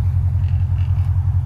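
A modified CL550 car with its mufflers swapped out idles with a steady, deep exhaust rumble. It is loud and close, with no voices.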